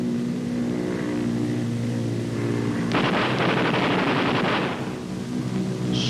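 Heavy aircraft gunners fire at a practice tow target: a droning engine hum runs throughout, then a dense burst of rapid gunfire breaks in midway and lasts about two seconds before the drone continues alone.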